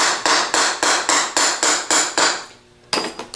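Light hammer taps seating a part on a 37MT starter motor during a rebuild, about ten evenly spaced sharp knocks close up, then a pause and a few more quick taps.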